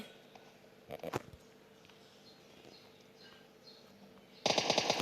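Gunfire in the video game PUBG Mobile Lite: a quick cluster of sharp gunshots, then a quiet stretch with faint clicks, before a rapid burst of automatic fire closes out, all fairly soft.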